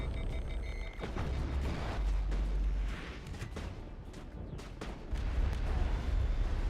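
Heavy anti-aircraft gun in the Mass Effect video game firing repeatedly, booming blasts with sharp cracks over a dense, rumbling battlefield bed, loud and continuous with no talk.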